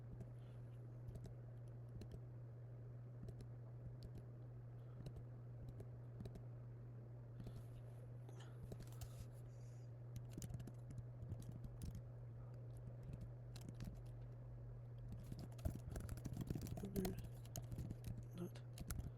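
Someone types steadily on a computer keyboard while programming, with quiet continuous clicking over a constant low electrical hum.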